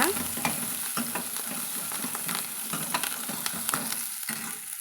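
Onions and curry leaves fry and get stirred in a hot pan for a Tamil tamarind curry, a steady close sizzle broken by repeated scraping stirs, with no voices.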